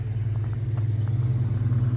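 Ford F-150 pickup truck approaches with a low, steady engine rumble, a continuous hum heard from a short distance with no talk over it.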